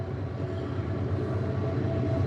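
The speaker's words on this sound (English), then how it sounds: "Hey, train." A passing train rumbles close and loud, a continuous heavy rolling roar with faint rhythmic clatter that holds steady from start to finish, with no voices.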